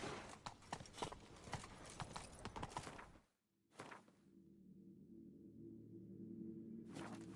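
Roach, a horse in The Witcher 3, gallops with quick, dense, close hoofbeats that stop abruptly about halfway, leaving a low steady hum with a brief burst of hooves in between.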